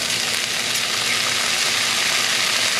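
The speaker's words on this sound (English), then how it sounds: "Let it just like fry up in there." Trout almondine sizzling and frying in butter with toasted almonds, parsley and capers in a pan, a steady close crackling hiss that runs unbroken and fairly loud throughout.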